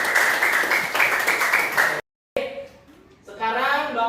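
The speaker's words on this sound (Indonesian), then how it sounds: "Kita beri tepuk tangan." Students in a classroom give a short burst of clapping. It stops abruptly, followed by a brief silence and then a teacher talking.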